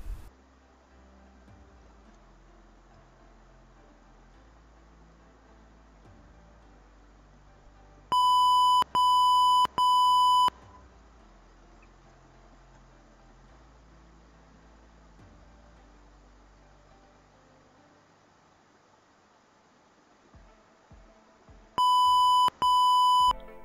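Two bursts of three loud electronic alert beeps each from an OpenCV Python drowsiness alarm, sharp and evenly spaced, separated by a long stretch of quiet room hiss with faint clicks.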